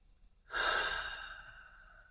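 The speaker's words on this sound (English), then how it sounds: "Take a deep breath." A single deep breath taken close to the microphone begins after about half a second, then a long airy exhale slowly fades out, with no speech.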